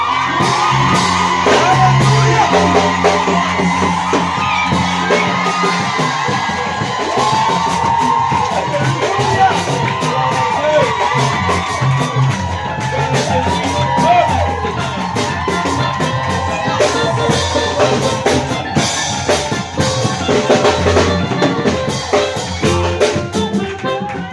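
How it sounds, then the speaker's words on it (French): A church congregation shouts, whoops and cheers with joy, a loud, sustained, dense crowd roar with overlapping cries and music-like tones running throughout. "On fait des cris de joie pour le roi des rois."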